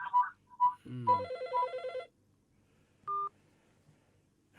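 A telephone sounds quietly indoors with a short run of electronic ringtone and dial-style tones over about two seconds, then a lone brief beep after a pause.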